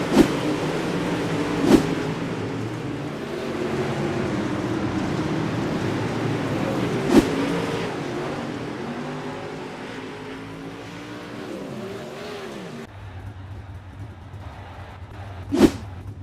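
Late model race cars circle a short track during a Thursday night race, a steady broad engine roar with rising and falling pitch sweeps as cars pass, punctuated by a few sharp bangs, then a lower idling drone near the end.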